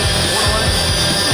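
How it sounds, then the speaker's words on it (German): Larger drone carrying a pizza attached with hot glue lifts off, a loud, steady whirring buzz from close by filling the whole moment, with a voice faintly underneath. "Und jetzt geht's ab mit der größeren Drohne."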